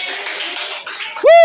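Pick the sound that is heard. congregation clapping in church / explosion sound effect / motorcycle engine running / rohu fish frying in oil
congregation clapping in church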